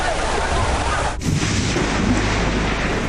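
Heavy rain pours steadily with a low rumbling thunder underneath, and a sharp crack breaks through about a second in.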